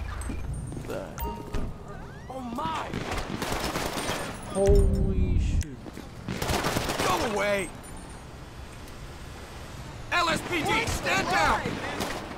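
Gunfire in the GTA V LSPDFR police mod, loud repeated bursts of shots in several clusters, mixed with excited shouting voices.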